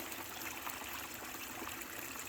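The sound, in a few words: water flowing through a Gold Cube gold concentrator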